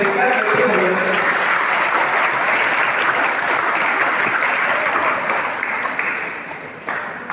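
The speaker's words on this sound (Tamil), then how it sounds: "சிறப்பு கரகோஷம் செய்து நன்றி தெரிவிக்க கேட்டுக்கொள்கிறேன்" Sustained, dense audience applause fills a church festival gathering at Vidathaltheevu, Mannar, marking the feast of the 400-year-old St. James church; loud and steady, tapering slightly near the end.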